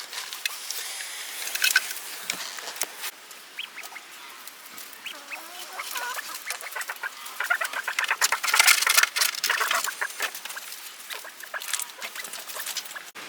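Chickens and other poultry in a snowy farm coop give off scattered clucks and busy chatter throughout, close by and fairly quiet, with a brief louder burst near the middle.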